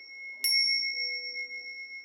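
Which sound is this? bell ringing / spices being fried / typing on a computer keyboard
bell ringing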